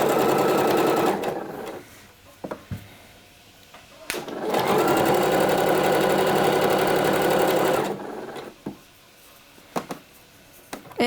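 A sewing machine joins fabric pieces of a sweater in two long steady runs of loud, rapid whirring stitches, with quiet pauses and small clicks between.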